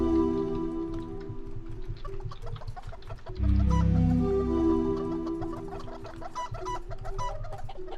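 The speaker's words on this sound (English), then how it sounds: "if I talk to them, they make quacking sounds" Ducks in a video game quack in a steady stream of short, bird-like calls over a constant low electronic drone, with one louder thump partway through.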